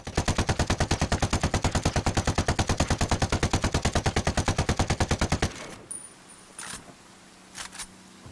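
Rapid sustained burst from a high-capacity weapon with an 80-round magazine in Ghost Recon Wildlands, dozens of evenly spaced loud shots for about five seconds, then stopping, followed by a few faint clicks and mechanical handling sounds.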